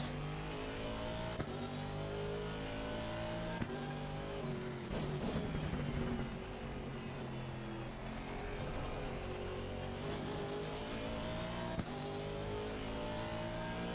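Race car engine howling steadily through gear changes at Brands Hatch in a racing video game, a continuous loud near drone with brief shifts and revving swells, no voices.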